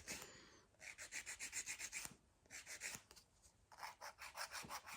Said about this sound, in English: you grab your 100 grit file and you start filing it down